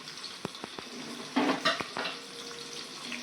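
Chopped onions, 1.5 kg, sautéing in a pan: a low, steady sizzle broken by sharp clinks and scrapes of stirring, fairly quiet and with no talking.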